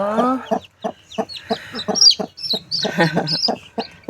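A brooding native hen clucks in short, close, rhythmic bursts while newly hatching chicks peep high and thin around her.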